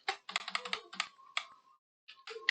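Close, crisp keystrokes on a computer keyboard during coding, a quick run of taps, a pause, then a few more presses, with no speech.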